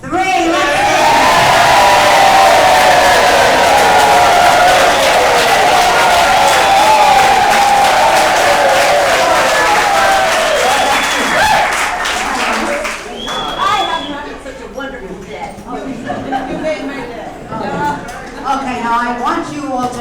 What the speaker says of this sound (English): give them a rousing, cheering, standing ovation